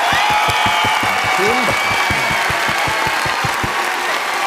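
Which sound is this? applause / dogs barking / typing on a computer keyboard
applause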